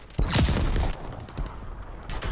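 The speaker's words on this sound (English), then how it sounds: "That machine gun is so annoying to deal with." Rapid machine gun bursts in the Call of Duty WW2 open beta, loud and close at first with heavy booming impacts, then continuing as scattered gunfire amid a busy battlefield with tanks and flak guns.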